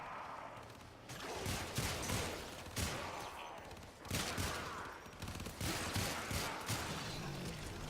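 Sikaris Prime secondary pistol firing in Warframe: repeated sharp bursts of gunfire in quick succession, loud and close, with brief gaps between the volleys.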